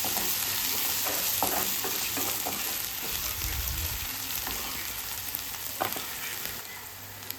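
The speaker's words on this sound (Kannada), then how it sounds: "ಅದನ್ನು ಹಾಕಿ ಚೆನ್ನಾಗಿ ಫ್ರೈ ಮಾಡ್ಕೋತಾ ಇದ್ದೇನೆ" Ginger garlic paste frying in a pan, a continuous soft sizzle with light stirring taps, heard alone at low volume.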